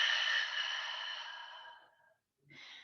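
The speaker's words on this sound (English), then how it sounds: "And exhale out through the mouth." A long, deep breath pushed out through the mouth during a yoga flow, a close airy exhale fading over about two seconds, followed by a brief pause and the start of another soft breath.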